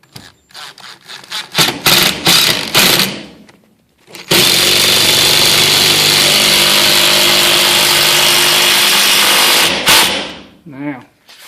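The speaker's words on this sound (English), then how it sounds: "here's the final result using my little impact driver and self-tapping screws" Small cordless impact driver sinking self-tapping screws into wood framing by a garage door: a few short bursts, then one long steady loud whirring drive of several seconds, close up.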